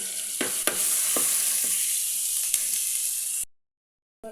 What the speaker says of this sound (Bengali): মশলা লাগি সামান্য রসুন দিলাম তেলের মাঝে